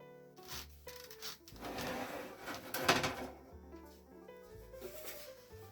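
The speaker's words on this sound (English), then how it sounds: "you can take the top of the case off easy as pie-ola" Plastic top case cover of a Kaypro PC-30 PC/XT compatible computer being lifted off, with scraping, rubbing and a couple of knocks at close range, alone with no talk.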